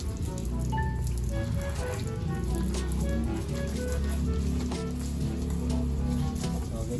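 Water sprays and patters steadily against a motorcycle during washing, a continuous close hiss with scattered drips and faint chirps in the background.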